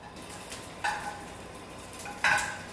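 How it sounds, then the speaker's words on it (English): Sugar-coated bok choy hits a hot pan for searing, with two short, faint bursts of sizzle about a second and a half apart over low kitchen hiss. "just sear it sugar side down"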